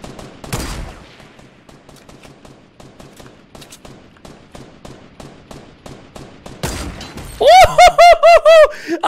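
Rapid gunfire in the Fortnite video game, with a long run of evenly spaced shots at moderate loudness, a sharp blast near the start, and a loud burst of ringing impacts near the end.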